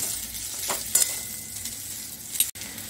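Cooked noodles stir-fried with carrots and cabbage in oil over high heat, a steady close sizzle with a few sharp scraping stirs and a brief clatter near the end, and no voices.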